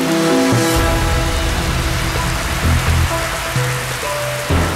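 Heavy monsoon rain pours down steadily in a dense, loud hiss, spreading across the whole band with faint low rumbles beneath and no voices.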